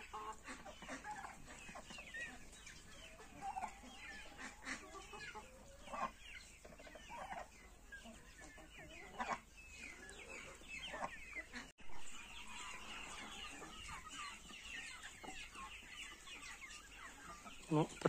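Chickens and chicks cluck and chatter steadily at moderate distance on a poultry farm with black copper Marans and Mechelen hens, with occasional louder calls and a faint crow.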